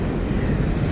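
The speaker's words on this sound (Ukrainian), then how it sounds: "Море хвилюється." Sea waves wash onto a windy shore in a steady, dense roar, with wind buffeting the microphone throughout and no voices.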